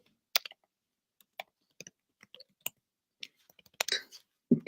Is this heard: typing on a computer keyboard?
yes